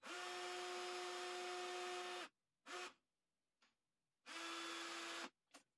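A Parkside PKGA 20-Li C2 cordless drill driver in screwdriving mode whirs at steady speed for about two seconds, stops, gives a short burst, then runs again for a second long spell before brief final blips.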